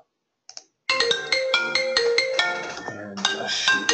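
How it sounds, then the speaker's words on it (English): A telephone ringtone plays a bright, repeating electronic melody that starts after a brief chirp and keeps ringing steadily and fairly loudly nearby. "Apologize for the phone ringing there in the background."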